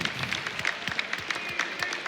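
Applause from a large audience at an esports event, a League of Legends semifinal at IEM Katowice 2015, with dense steady clapping that fills the whole stretch at a moderate distance.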